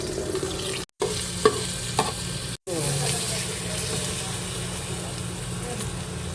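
Argentine corned beef frying with onions in a pan, a steady sizzle with a few stirring knocks, close up and interrupted by two brief dropouts, with low speech in the background.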